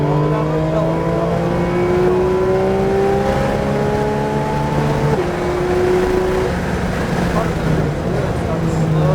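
A Porsche GT3 on the Homestead, Florida track accelerates at full throttle, its loud engine note climbing steadily with one clear gear change midway before climbing again, heard from inside the car.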